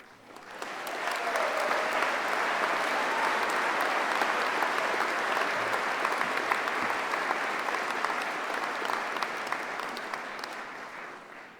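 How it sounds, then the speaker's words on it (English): Sustained audience applause fills a graduation ceremony hall, a dense steady wash of many hands clapping that swells quickly and holds evenly for over ten seconds before easing slightly at the end. "please join us in giving all recipients of awards and prizes a final round of applause"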